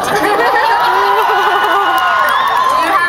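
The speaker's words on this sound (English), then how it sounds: "It always seems to provoke a rather elaborate reaction from the crowd" A convention crowd at the Supanova Pop Culture Expo in Sydney erupts in loud, sustained cheering, screaming and whooping, high-pitched squeals layered densely throughout.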